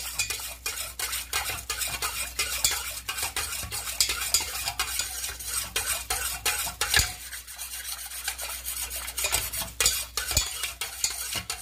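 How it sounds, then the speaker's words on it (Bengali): Homemade soap mixture made with mustard oil, being stirred in a bowl: a steady scraping, clinking swirl of utensil against the bowl, continuous and close with no voices. "নাড়িয়ে দিচ্ছি, দেখুন আস্তে আস্তে ঘোলাটে হতে থাকবে।"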